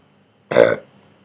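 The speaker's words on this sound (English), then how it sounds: "There's those burps." A single short, loud burp from a man recovering at home after a gallbladder problem, heard alone against near silence.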